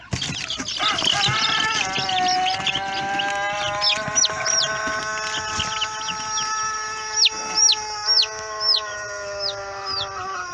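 Chickens cluck close by while a rooster lets out repeated, drawn-out calls, with several birds chattering at once.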